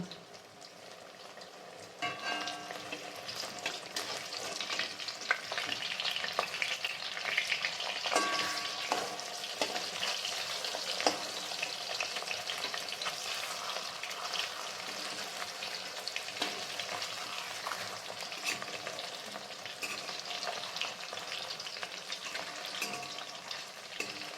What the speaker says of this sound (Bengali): দেখো আমার মাছগুলো বেশ লাল লাল করে ভাজা হয়ে গেছে।